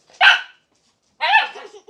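A puppy gives two sharp, loud barks close by, separated by a short silence, with no talking.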